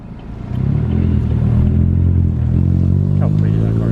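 A yellow Honda S2000 sends out a loud, steady exhaust drone that holds from about half a second to the end, rough and close by, with no voices over it.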